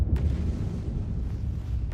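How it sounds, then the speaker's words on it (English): A deep, continuous rumbling boom from an exploding star in the video game Outer Wilds, loud and sustained for about two seconds, with no voices over it. "Have a star explosion?"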